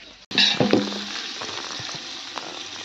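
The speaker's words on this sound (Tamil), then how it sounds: "இப்போ தான் கொஞ்சம் லைட்டாக பொன்னிறமாக வதக்கிட்டு இருக்காங்க" Vegetable biryani ingredients sautéing in a pan until golden, a close steady sizzle and crackle with a few stirring clatters, and no voices.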